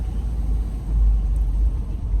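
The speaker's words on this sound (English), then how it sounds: "Sorry, I'm driving." A car drives along with a heavy low rumble of engine and road noise, steady and close, swelling slightly midway, no other sounds standing out.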